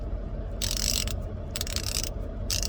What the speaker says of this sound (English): is a gear wrench 84 tooth half-inch ratchet